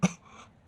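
A single short cough or throat-clearing bursts out close and clear, then falls quiet before a second burst at the end, from someone suffering from fever and a cold.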